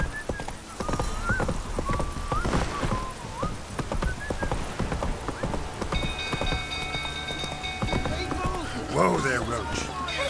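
A horse's hooves clip-clop at a gallop in the video game The Witcher 3, with rain pattering, an occasional whinny and someone talking over the sound.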